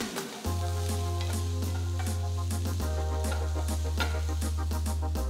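Cauliflower fried rice being stirred in a hot pan, with a steady loud sizzle of frying under repeated scraping strokes of the spoon, and a constant low hum from the stove behind it.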